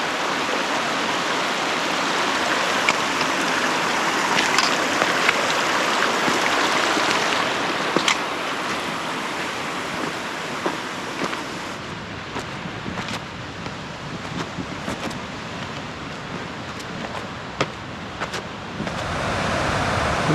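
McGee Creek in the High Sierra flows steadily, a broad, continuous rushing hiss of water heard close by with no talking, holding even throughout and thinning slightly in the later part.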